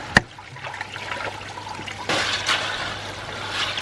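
Water trickles steadily out of a koi pond filter outlet, a soft continuous splashing that runs the whole time, fairly close and moderately quiet.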